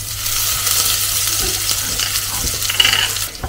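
Garlic hitting hot cooking oil in a pan for pork adobo, a bright steady sizzle close up with a faint low hum beneath and small pops near the end.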